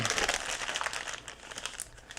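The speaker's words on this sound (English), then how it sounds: "We're going to put that pasta right there in our little plastic bag, seal it up" Thin plastic bag crinkling steadily as pasta dough is sealed inside to rest, close and fairly quiet, with continuous rustling and soft crackles throughout and no talking.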